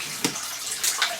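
Water runs from a tap to fill a drinking glass, a steady hiss of flow with a few brief splashes, heard close and alone.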